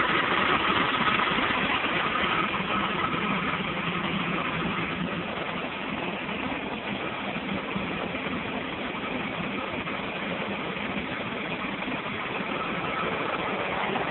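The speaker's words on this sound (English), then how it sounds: "that clutch is just pumping away." A car engine idles steadily while its AC compressor clutch keeps cycling on and off, a constant mid-range hum with faint repeated pulses beneath it, recorded close up with no talking.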